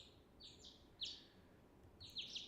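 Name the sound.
birds chirping outside, sound effect in audio drama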